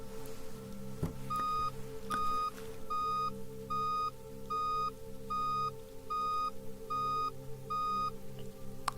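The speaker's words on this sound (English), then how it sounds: "Let's begin with the first series of beeps." Nine evenly spaced short electronic tones of a hearing test, each a clean steady pitch about half a second long, sounding softly and alone over a low background hum.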